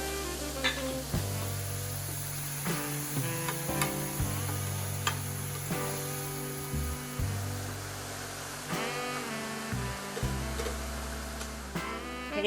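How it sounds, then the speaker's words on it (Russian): Mushrooms sizzling in a hot pan while stirred, with occasional scraping and clinks of a utensil against the pan. "Обжариваем грибочки буквально несколько минут."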